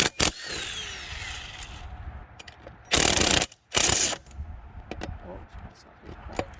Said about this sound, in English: And then you take the 17mm socket, or it's the 11/16 socket.